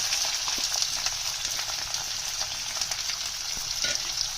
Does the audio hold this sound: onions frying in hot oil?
yes